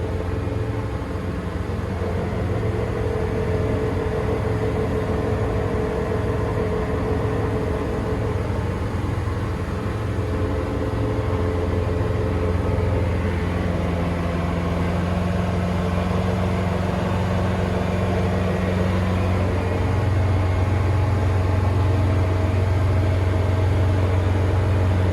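A Bayliner 212 boat with a MerCruiser 5.0L MPI Alpha 1 sterndrive cruises at about 21 knots, its engine a steady low drone under a constant rush of wind and water, heard from near the helm.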